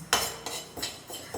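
Urad dal being roasted in a pan, with a spoon or spatula scraping and clinking against the metal in a few quick strokes, close and fairly loud.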